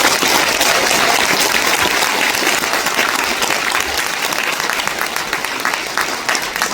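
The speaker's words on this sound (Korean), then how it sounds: "이분들을 위해서 여러분 큰 박수를 부탁드리겠습니다." Large studio audience applauding loudly at a Korean TV music show taping, a dense, sustained wash of clapping that stays strong throughout and eases off only slightly toward the end, with no talk over it.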